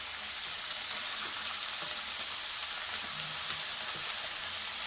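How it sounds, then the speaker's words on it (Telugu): Onions sizzling in hot oil with green chillies and curry leaves, a dense, steady hiss filling the whole stretch with occasional small pops, close and alone. "ఉల్లిగడ్డలు అన్నీ వేసేస్తున్నా ఆయిల్లో."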